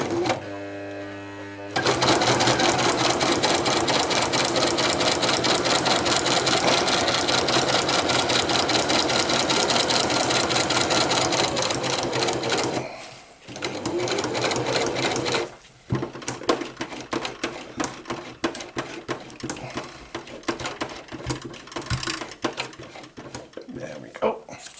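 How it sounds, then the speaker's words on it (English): Close, loud whirring of a sewing machine stitching a row along a stuff sack, running steadily for about thirteen seconds. It then stops briefly, and short bursts of stitching follow with gaps between them. "And then we'll put another row of stitches all the way down."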